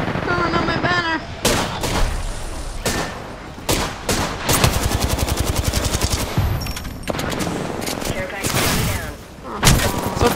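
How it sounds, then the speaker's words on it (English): Apex Legends gunfire, heard as rapid automatic bursts and single sharp shots in quick, irregular succession. The bursts are loud and close, with a player's voice talking between and over them. "Stop shooting at me!"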